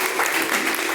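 Loud, dense applause from a Portuguese-speaking church congregation at a live worship service, many hands clapping close by with no break and no speech over it.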